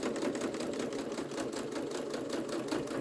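A sewing machine top stitching binding on a scrappy strip nesting pouch at a 3 mm stitch length, running at a steady, rapid whirring rhythm, close and continuous without speech.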